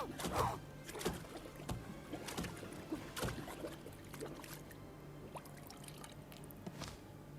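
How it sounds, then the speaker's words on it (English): A target is drowned in a bathroom stall in a Hitman game, with faint splashing and sloshing water, a few soft knocks and scuffles, and trickling drips fading out near the end. "just follow her into the second stall, and then go ahead and drown her"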